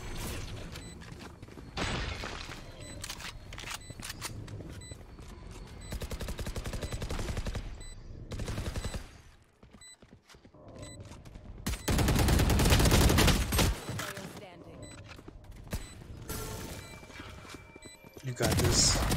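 Gunfire from the tactical shooter VALORANT comes in dense bursts and rapid volleys, loud and close, with heavy loud stretches midway and at the end, and a person talks over the action throughout.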